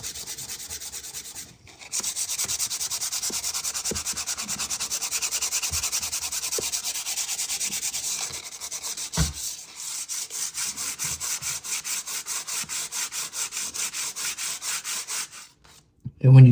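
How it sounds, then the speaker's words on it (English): Hand sanding of old window wood with 100 grit sandpaper, a steady dry scratchy rubbing that runs continuously in close, even back-and-forth strokes, pausing briefly midway and near the end. "And when you sand stuff like this, make sure that you go out far enough so when you come over this way, you can tie into it."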